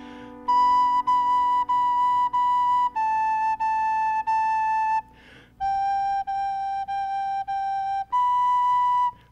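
A recorder plays the first phrase of Jolly Old St. Nicholas alone, about a dozen clear, pure, whistle-like notes in even repeated groups, with a short breath gap partway through.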